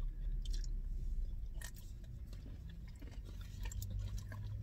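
Someone chews a Sonic Reese's Overload Blast frozen dessert up close, with repeated soft crunches and wet squishing bites in an irregular rhythm and no talk.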